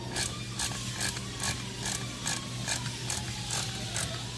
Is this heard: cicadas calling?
no